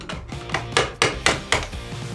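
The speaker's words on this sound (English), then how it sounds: "all you got to do is just tap it out with your hammer" A hammer taps out a door hinge pin, striking metal about every quarter second in a steady run of sharp, close knocks with brief ringing decay between hits.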